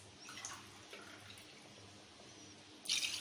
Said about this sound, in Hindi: ये इसके अंदर अब मैंने पानी डाल दिया 1 ग्लास